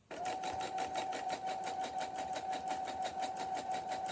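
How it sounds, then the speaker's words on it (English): A sewing machine stitches a fabric soap pouch with a zigzag stitch, running as one steady, continuous whir close by for several seconds. "So now I'm going to sew underneath here with where the pin is, and then close the top."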